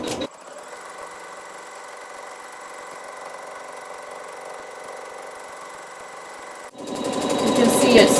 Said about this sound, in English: we'll let the machine sew the tack down stitch